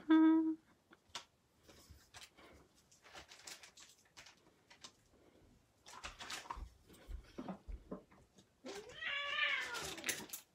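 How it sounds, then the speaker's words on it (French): Cats fighting nearby, with sporadic yowls and a long rising caterwaul, heard faintly at a distance with quiet gaps between the cries. "une bataille de chats à côté"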